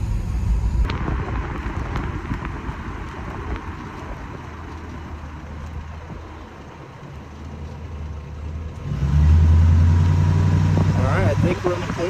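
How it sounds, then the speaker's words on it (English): A Crown Victoria sedan drives after a brake caliper replacement, its engine and road noise a steady low rumble from inside the car, swelling louder toward the end as it accelerates. "Now we're gonna have to do a little bit more driving and see if that grinding goes away"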